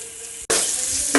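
Curry leaves dropped into hot oil in a pan burst into a loud, close, sustained sizzle after a brief quieter moment, with no talking.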